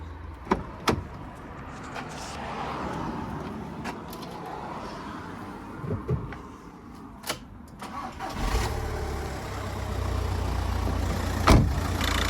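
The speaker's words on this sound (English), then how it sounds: "So we're going to go ahead and start the Caddy." A Volkswagen Caddy cranks and catches, settling into a steady low idle after a few clicks and knocks, recorded close up during a jump-start setup beside a dead Golf.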